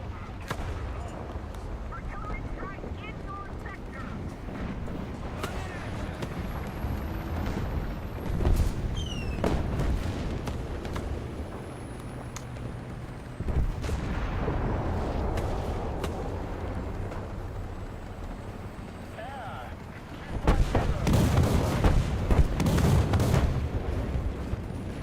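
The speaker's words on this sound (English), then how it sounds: "Artillery strike in your sector." Artillery strike explosions in War Thunder, a tank battle game: scattered heavy booms and rumbling blasts over continuous battlefield noise, with the loudest, most intense barrage near the end and faint talk underneath.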